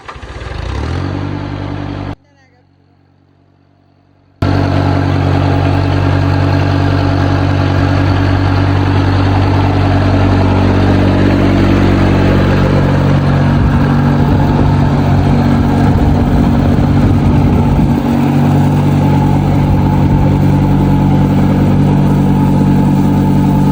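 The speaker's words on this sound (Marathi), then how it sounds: "आज फक्त एकच माणूस ट्रॅक्टर चालवेल, माग पावडर आपोआप मारल्या जाईल" A tractor runs steadily on a farm field while spraying powder onto a ridge gourd crop, with a loud, continuous low engine drone that drops out briefly near the start and then holds steady.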